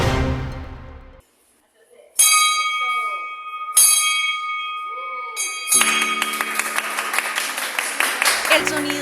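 A bright bell, rung to mark hope and victory over a disease, rings out in two clear strikes, then rings again as applause and clapping swell up around it.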